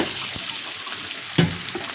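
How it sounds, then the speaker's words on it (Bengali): Chopped potatoes go into a pan of lightly fried onions and chilies for a potato chorchori with masoor dal, giving a steady close sizzle with a brief clatter as they land. "এখন আমি আলু কুচুনি ছেড়ে দিতে আছি।"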